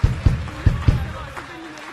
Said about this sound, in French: je voudrais qu'on applaudisse les techniciens parisiens et neuillans qui m'ont aidé à faire le spectacle